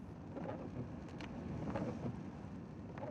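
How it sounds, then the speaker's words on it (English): Steady rain falls over a Hungarian vineyard, a broad continuous wash of patter with a few brief louder gusts, close and even throughout, with no voices. "The rain has started to fall."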